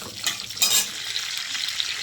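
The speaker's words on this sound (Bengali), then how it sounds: "তারপর ওর মধ্যে আমি কাজুগুলোকে ভেজে নেব।" Cashews frying in ghee in a wok, a bright continuous sizzle with a few louder crackling bursts and light stirring, close by and without talk.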